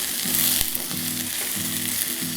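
Vegetables for upma fry in oil in a pan, a dense steady sizzle with repeated scraping strokes of a spoon in an even rhythm, close and alone without speech.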